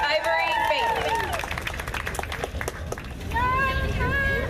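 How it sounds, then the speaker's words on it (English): Audience applause and cheering for a contestant at an outdoor pin-up pageant during a hot rod car and bike show, a sustained crowd wash of clapping with some chatter and music partly over it. "Let's give a huge round of applause to Ivory Faith."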